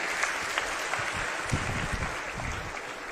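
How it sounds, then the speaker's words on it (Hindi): Crowd applause at an outdoor political rally in Barwala, Haryana: dense, steady clapping from a large audience, loud and continuous with no talk over it. "एक बार ताली बजा के हमारी टीम का हौसला बढ़ा दे।"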